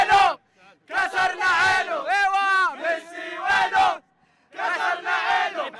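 Saudi football fans celebrating outside Lusail Stadium in Qatar after a 2-1 win, a loud, close crowd chanting and shouting together in strong rhythmic bursts with short pauses between.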